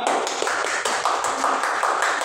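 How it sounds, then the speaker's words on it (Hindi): Audience clapping, a steady and loud rapid patter of many hands applauding together for the women in the room, continuous and close with no talk over it. "खुद के लिए बजाओ तालियां।"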